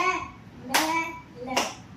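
Children clap in unison to beat out the syllables of a word in a classroom game, with two sharp group claps about a second apart over a murmur of young voices.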